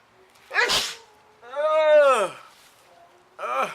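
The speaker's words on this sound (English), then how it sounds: "So hold on, I'm gonna sneeze." A single sharp sneeze bursts out, followed by a voice speaking briefly and another short utterance after a pause.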